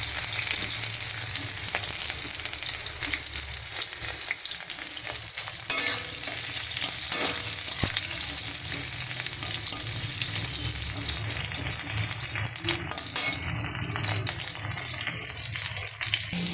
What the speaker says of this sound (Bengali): এই যে আমি উচ্ছেটাকে সুন্দর করে ভেজে নিলাম